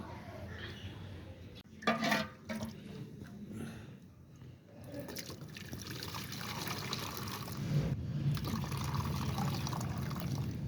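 Water trickles and pours steadily close by as it drains from soaked rice, with a brief splashier moment early on, then a continuous draining flow with no clear speech.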